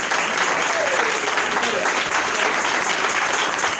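A church youth congregation claps and cheers for Jesus in dense, sustained applause that fills the room at a steady, loud level throughout.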